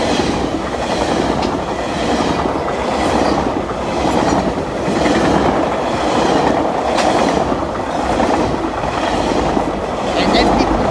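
A passenger train led by a cab car rolls past near the Newmarket area at night, its loud, steady wheel rumble and rhythmic clickety-clack filling the scene with faint hiss and rail squeal on top.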